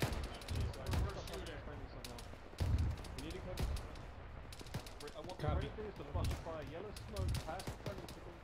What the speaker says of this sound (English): Please stop shooting over our heads.